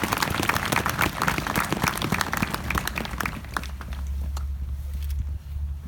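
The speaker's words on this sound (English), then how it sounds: "deserve a healthy round of applause for the work they selfishly put into this." A crowd applauds at an outdoor park dedication for a veterans' park, with dense clapping that fades after a few seconds into a low rumble of ambient noise.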